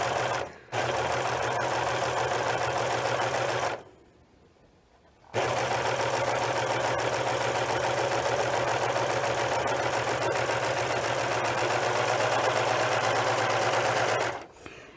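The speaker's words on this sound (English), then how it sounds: "So we're going to serge this one." Serger sewing machine stitching along a ribbon header, a loud steady mechanical whir with a low hum, pausing briefly for about a second before running again until it stops, no talk.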